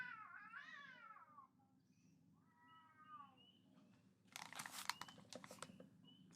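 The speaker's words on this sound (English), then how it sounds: "There is a cat outside going fucking nuts." A cat outside a window meows and yowls in several drawn-out, wavering cries, followed by a burst of scuffling, crinkly noise, all somewhat distant and with no talk over it.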